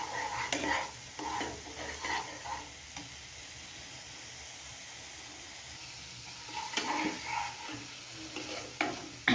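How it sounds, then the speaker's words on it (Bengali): Eggs sautéed in a pan with ginger paste, salt, turmeric, cumin, chili and coriander powder give off a soft sizzle under repeated scraping, stirring strokes that come in bursts, pause, then pick up again near the end. "আমি এখানে লবণ, হলুদ, জিরা গুঁড়া, মরিচের গুঁড়ো আর ধনিয়া গুঁড়া দিয়ে কষিয়ে নিচ্ছি।"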